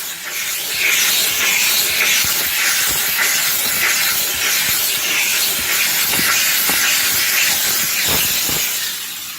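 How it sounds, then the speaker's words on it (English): A handheld steam cleaner with a brush head hisses loudly and continuously while cleaning hair from a car's interior, with faint scrubbing ticks under the steady spray. "So what's been working for me is simply just using my steamer"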